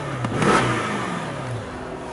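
A single quick engine rev of a 2007 Mercedes-Benz SL500 with a 5.5-litre engine rises and falls away, a short blip followed by a steady idle hum.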